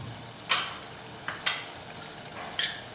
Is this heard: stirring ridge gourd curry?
yes